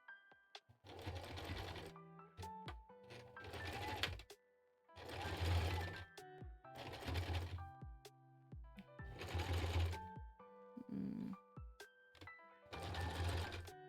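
Sewing machine top stitching fabric for a Nyx from Hades cosplay: close, steady rapid needle runs in seven bursts of one to two seconds, with quiet pauses and small clicks between them.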